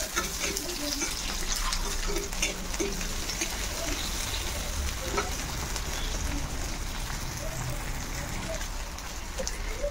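Onions frying in a small amount of oil in a wok for an Assamese dried-fish recipe. A continuous close sizzle with stirring scrapes runs steadily throughout, with a voice talking over it.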